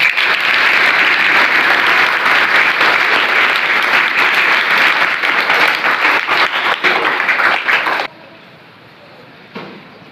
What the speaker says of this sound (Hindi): अपने विद्यालय के सभी टीचर्स के लिए एक बार ताली बजा दें।